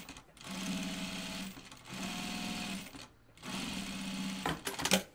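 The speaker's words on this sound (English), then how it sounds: "So we're going to top stitch this down." Sewing machine top stitching a seam on a pair of jeans, three steady runs of rapid mechanical stitching separated by brief pauses, close and fairly quiet, ending with a few clicks.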